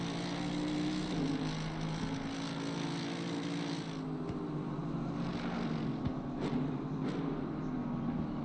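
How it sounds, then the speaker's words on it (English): A race car engine, run at the 12 Hours of Imola, drones steadily and loudly throughout with a continuous low rumble and small shifts in pitch. "it sounds like Thor's having a party when that engine gets fired up."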